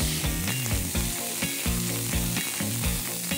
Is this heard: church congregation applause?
no